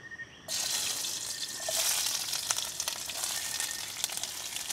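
Garlic, onion and green pepper hit hot oil in a pan at a valley campsite, breaking into a steady hiss after a quiet half-second and sizzling on with crackling pops.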